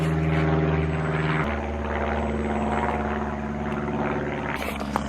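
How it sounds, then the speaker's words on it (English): A propeller airplane passing overhead, a steady droning engine hum with tonal buzz that holds for several seconds, loud and continuous, heard beside a car engine bay being cleaned. "Plane right now going"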